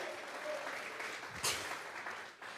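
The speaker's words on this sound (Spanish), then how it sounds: "Vamos a regalarle ofrenda de palmas al Dios de la gloria." A church congregation at a Sunday service claps steadily as an offering of applause, a dense, continuous wash of many hands with a brief louder burst near the middle.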